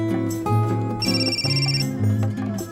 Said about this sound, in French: je crois que ton téléphone sonne